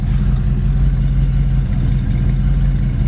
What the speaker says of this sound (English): Dual exhaust sounds good too.